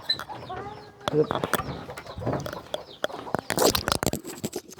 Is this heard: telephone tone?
no